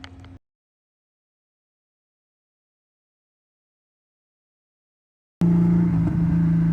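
A Subaru car's engine drones loud and close, cutting in abruptly after a brief burst and several seconds of silence, with a steady low hum as it drives.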